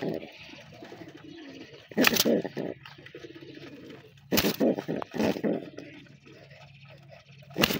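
Domestic pigeons coo softly near newly hatched chicks, with low repeated coos and a few louder bursts of rustling and wing movement close by.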